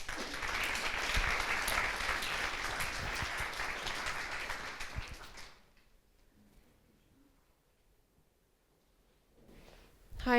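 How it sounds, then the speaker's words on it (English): Warm audience applause welcoming a product design director to the stage at a design talk, steady clapping for about five seconds that dies away into near silence. "So please give a warm applause for Skali"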